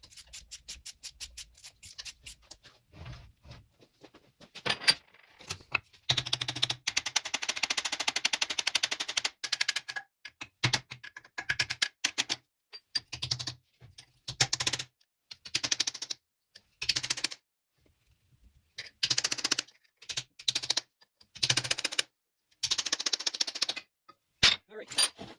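Sundstrand Engelberg mechanical adding machine running a speed test, giving bursts of rapid clattering mechanical clicks that start and stop repeatedly, close and fairly loud, with short quiet gaps between runs.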